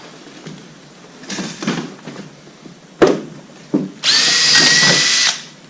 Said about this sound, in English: Going to drill out the rivet.